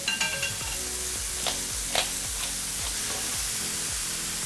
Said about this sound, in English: Let's saute this.